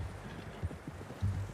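Faint, soft horse hoofbeats clop at a slow walking pace in Red Dead Redemption 2, with a few heavier steps near the end and no other sound over them.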